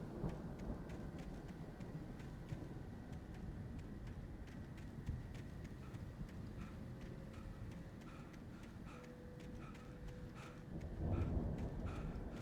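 A thunderstorm in the Alan Wake game: steady, soft rainfall hisses throughout, with a low rumble of thunder swelling near the end, faint and without speech.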